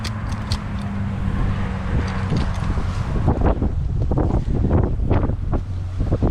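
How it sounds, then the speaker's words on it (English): Heavy wind buffeting the microphone with a constant low roar and gusty rumbles, loud and unbroken throughout. "The wind is terrible right now"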